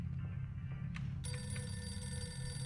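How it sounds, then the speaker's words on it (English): A telephone rings in The Mortuary Assistant horror video game, a bright electronic ring starting partway through over a low steady background hum. "Phone call?"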